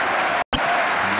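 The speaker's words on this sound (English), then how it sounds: "the crowd now really doing their best to lift the German #1 player." A crowd at the 2012 World Team Table Tennis Championships final applauds in a dense, steady wash of clapping, broken by a split-second gap.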